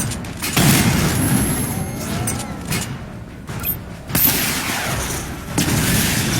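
A missile barrage fires in the video game Batman Arkham Knight, with loud booming blasts and rumbling explosions that come in surges, set over dense mechanical game noise.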